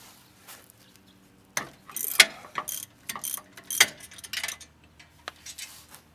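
Ratchet wrench clicking as it loosens 16mm brake bolts on a BMW E36 rear brake, in quick irregular bursts of sharp metallic ticks between short pauses, close and fairly loud.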